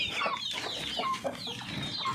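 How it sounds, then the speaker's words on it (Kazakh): Backyard hens cluck close by, with short, repeated clucks and murmuring calls overlapping in a steady stream. "міне өз тауықтарым."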